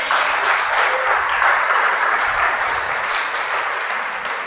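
Applause from an audience fills the whole stretch as a dense, steady wash of clapping that fades slightly toward the end.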